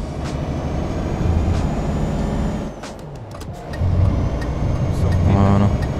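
Road traffic in the truck-driving game Euro Truck Simulator 2, a steady loud engine drone with vehicles rumbling past and brief hissing bursts, under a speaker's voice.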